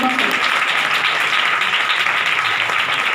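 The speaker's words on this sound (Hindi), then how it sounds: "ताली बजा के प्रभु के नाम से महिमा करो।" Congregation clapping in praise during a Hindi church service, a continuous loud wash of hand claps with speech faintly mixed in.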